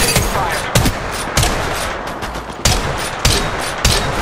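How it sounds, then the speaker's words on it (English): Gunfire from the video game Apex Legends, mobile play on an iPad Pro, with sharp shots landing in a few separate bursts over steady background game noise. "Shots fired at me."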